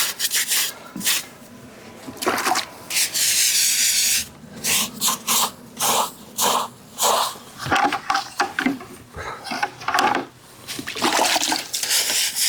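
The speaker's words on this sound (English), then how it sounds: "we just rinse it off. It gets all the dirt, all the grime off of them" Water rinsing dirt and grime off garden border rocks, with bursts of hissing spray and splashing broken by short pauses, loud and close, no talk.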